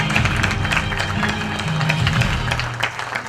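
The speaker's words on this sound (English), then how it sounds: "a thunderous round of applause" Steady applause from an awards ceremony crowd, dense and continuous, with some murmuring underneath and music playing along.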